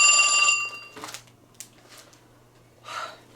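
A telephone rings in a home sewing room, a short bright electronic ring lasting under a second, followed by faint shuffling and small handling noises.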